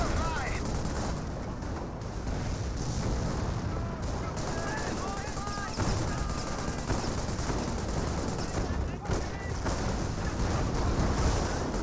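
Dense battlefield gunfire and artillery from a Company of Heroes 1 match, a continuous roar of shots and blasts layered with rapid cracks, loud and unbroken throughout.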